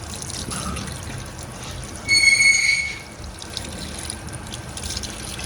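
Water poured over a pet during a bath at home: a steady, close pouring wash that swells into a louder splash for about a second midway, then settles back to a softer flow.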